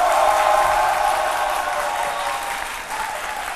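A television studio audience claps continuously in dense, even applause that slowly tapers in volume over a few seconds.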